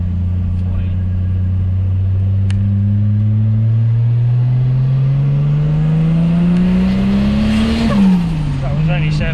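A rebuilt turbo car engine runs loud and close, its tone rising steadily as it climbs through the revs before easing off near the end.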